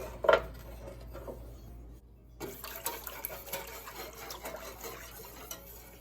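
A whisk stirring turkey gravy and scraping browned bits off the bottom of the pan, with wet, close scraping and sloshing, one brief clatter at the start and a short pause before the stirring resumes.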